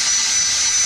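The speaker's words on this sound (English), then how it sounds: "Yeah, it's just a drill." A power drill whirs in one loud, steady, high-pitched burst during rear-axle work on a vehicle, heard alone with no voices.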